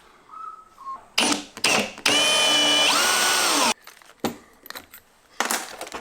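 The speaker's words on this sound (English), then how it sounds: "I'm going to go through with a pilot drill first, a bit smaller" A power drill whines loudly in a sustained burst, pitch dropping as it bores a pilot hole into a metal plate, with short clicks and bursts around it.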